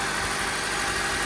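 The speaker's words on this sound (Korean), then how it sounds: "엔진 소리 너무 좋죠?" A steady, smooth idle from a 2017 imported car engine, a low continuous hum with no talking, even and unchanging throughout.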